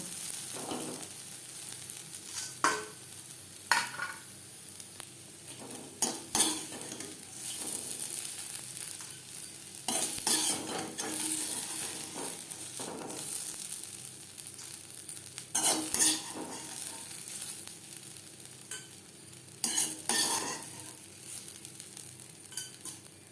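Okra (bhindi) pieces fry crisp in a pan while being stirred, giving a steady close sizzle broken by repeated scraping, tossing bursts of the spatula at irregular intervals, with no talking.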